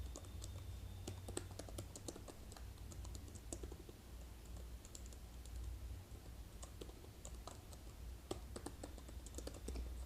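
Faint, steady computer keyboard typing as code is entered, irregular clicks of keys tapping away at a close distance over a low hum.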